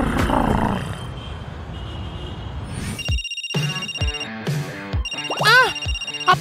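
A mobile phone rings with a loud, repeating electronic ringtone, its bright tones pulsing in short bursts after a noisy rumbling start, close and clear.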